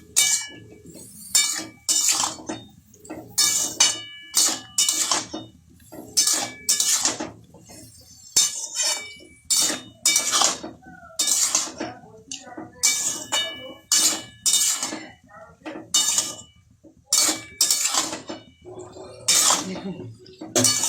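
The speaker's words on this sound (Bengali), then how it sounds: "উপকরণগুলো সব দিয়ে ভালো করে মিশিয়ে নিচ্ছি আমি" Ingredients for a sweet-sour-spicy jujube (kul) pickle with beet salt being mixed in a bowl, giving repeated clinks and scrapes of utensil against the dish in an uneven rhythm, with someone talking between the sounds.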